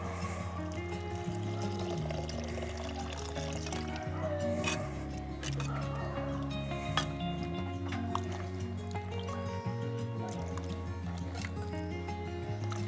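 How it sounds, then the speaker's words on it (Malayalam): Water is poured into a pot of fish curry already at a boil, a steady trickling and splashing under kitchen background noise. "അതിൻ്റെ കൂടെ നമുക്ക് ഇച്ചിരി ആവശ്യത്തിനുള്ള വെള്ളം കൂടി ഒഴിക്കണം."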